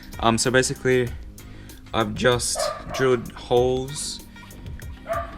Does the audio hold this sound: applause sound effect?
no